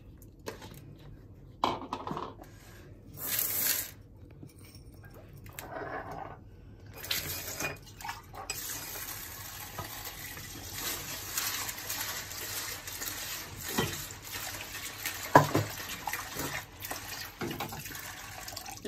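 Mürdük legumes, a lentil-family pulse, being washed in water in a kitchen: splashing and swishing water with clinks of grains and a pot, steady and close throughout.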